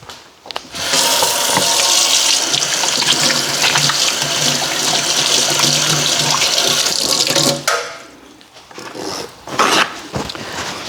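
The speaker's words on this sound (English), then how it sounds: "I'll wash my hands." Kitchen tap running strongly while hands are washed after cleaning seafood, a loud continuous gush of water for about seven seconds that then cuts off, leaving faint splashes and handling noises.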